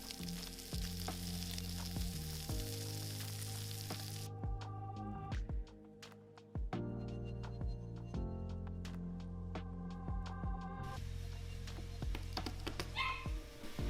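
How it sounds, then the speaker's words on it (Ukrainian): Shrimp fry in hot oil until golden, a steady sizzle that sits mostly beneath loud, prominent background music throughout. "підсмажуємо креветки до золотистої скоринки."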